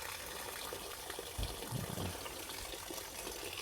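Water from a pressure-pump plumbing system gushes steadily in a continuous broadband rush, with a few low thumps partway through, the flow heard alone and fairly loud.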